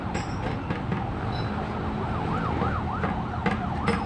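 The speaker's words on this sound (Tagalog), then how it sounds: "Yung ingay po ng mga ambulansya po yun." Wailing ambulance sirens cycle up and down over steady traffic noise, fairly close and continuous.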